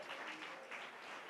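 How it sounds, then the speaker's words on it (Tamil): A church congregation claps along during a pastor's sermon, a short, dense burst of many hands that stays quiet and steady, as if heard from a distance. "நல்ல 2 கைகளை தட்டி இயேசுவே"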